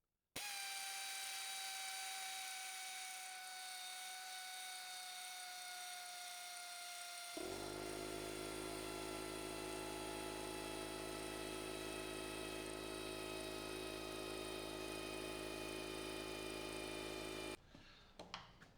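Small air compressor with a little tank running while an air tool operates, a loud steady mechanical drone that shifts to a deeper, rougher hum partway through, then cuts off near the end, with no talk.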